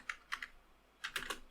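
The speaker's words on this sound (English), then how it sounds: "So let me type one text up here." Two short bursts of clicks on a computer keyboard, a few keystrokes each, separated by a quiet gap, close and fairly soft with no voices.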